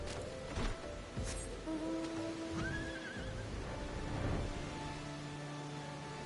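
A horse whinnies in a high, wavering call in Final Fantasy XIV amid a busy game soundscape, with hoof sounds and steady background noise underneath.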